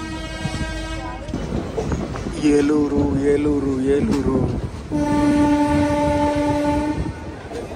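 A Gowtami Express train pulls out of Tadepalligudem station, sounding two long, loud horn blasts over a steady rolling rumble of the coaches, with people talking nearby.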